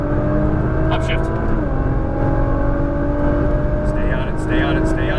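A Nissan GT-R R35 engine drones loud and close at high revs, its pitch dipping once at an upshift before climbing again, with tyre and wind noise around it and a voice coaching over the top.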